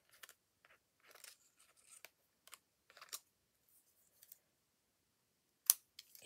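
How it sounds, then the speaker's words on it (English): A large pair of scissors snips through paper sentiments for a journal, giving several quiet, close, crisp cuts at an irregular pace, with one sharper, louder snip near the end. "I'm using a larger pair of scissors."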